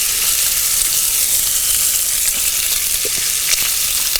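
Beer poured over bratwurst in a pot over a camp fire sets off a steady, loud hiss of sizzling, with faint stirring and crackling on top and no voices.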